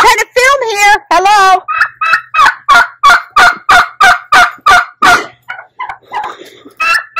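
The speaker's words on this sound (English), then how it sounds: "Don't mind the loud turkeys." Turkeys gobble loudly and repeatedly, close by, in a rapid rhythmic series of throaty calls with brief pauses.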